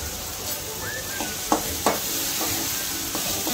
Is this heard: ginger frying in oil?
yes